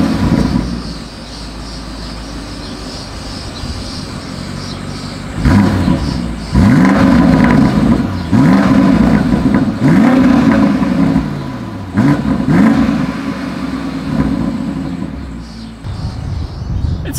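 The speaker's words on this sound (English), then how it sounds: "I do think this is going to sound good because we have the M50i, but let's go ahead and take a listen. As always, here is that exhaust clip." A 2020 BMW X7 M50i exhaust revs repeatedly after an idle, with several sharp blips rising and falling in quick succession, loud and close, then settling back toward idle.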